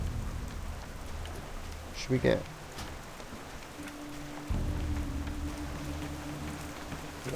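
Steady rain hisses across a World of Warcraft landscape as a constant soft wash, with a brief clatter near the start and a low hum entering partway through; someone speaks briefly.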